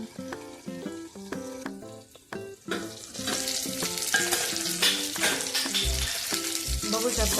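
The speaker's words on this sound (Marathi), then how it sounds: "वांगे असे छान अशी तेलात परतले आहेत" Stuffed brinjals fry in hot oil in a village-style Maharashtrian dish, giving a steady sizzle under a music-like tonal bed that grows louder and denser midway, with no talking.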